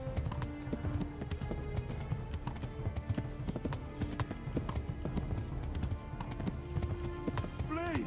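Horse hooves clip-clop in the medieval video game Kingdom Come: Deliverance. A steady, rhythmic trot of hoofbeats runs throughout at moderate volume, with people talking over it.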